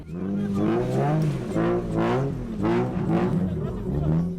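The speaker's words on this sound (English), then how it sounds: "Hundreds gather at the tracks in Johannesburg to watch the cars skid into circles at dizzying speeds." A spinning car revs and skids in circles at a Johannesburg track, its engine rising and falling in repeated rhythmic surges, loud and close, with voices or crowd sounds mixed in.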